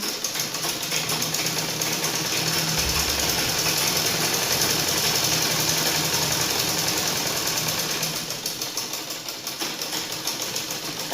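A sewing machine stitches a half-inch seam with a fast, continuous mechanical chatter, briefly deepening mid-run before easing into quieter, more uneven stitching toward the end, with no one speaking.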